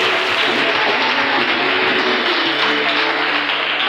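A congregation applauds in a sustained, dense wash of clapping that stays loud and even throughout, with a low hum running beneath it.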